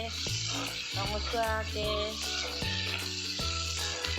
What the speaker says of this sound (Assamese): আৰু ভালকৈ অলপ সময় ভাজি ল'ম আৰু পিঁয়াজখিনি